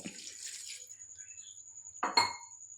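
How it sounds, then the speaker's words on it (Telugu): A short splash of water is poured into a clay pot of cabbage curry, followed by a quiet pause and a sharp metallic clink, over a thin steady high hum. "వాటర్ వేసుకోవాలన్నమాట"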